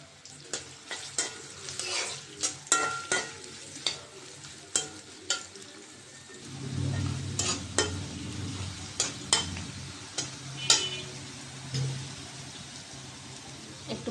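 Chopped onion hits hot oil in a wok and sizzles steadily, with a loud hiss swelling midway, while a spatula scrapes and clinks against the pan in scattered sharp taps.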